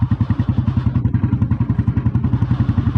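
An old red Royal Enfield Bullet Deluxe motorcycle engine idles nearby with a loud, even thumping beat, steady and continuous from start to finish.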